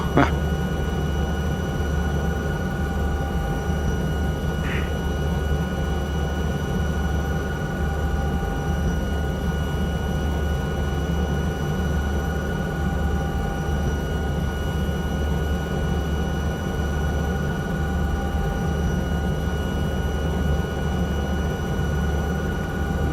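A helicopter flying in the Microsoft Flight Simulator 2024 video game gives a constant, loud droning engine and rotor noise with faint steady whining tones, unbroken for over twenty seconds and with no speech.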